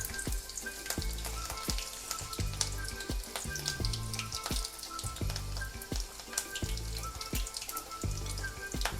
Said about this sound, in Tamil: எண்ணெய் நல்லா சூடாயிருச்சு. இப்போ இதில் பூண்டு, இஞ்சி, பச்சை மிளகாய் எடுத்து வச்சுருந்தோம்ல, 3யுமே ஒன்றா சேர்த்துடலாம்.